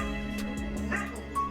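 A shepherd dog reunited with its owner whimpers and yips excitedly in short bursts, close by over a steady background hum.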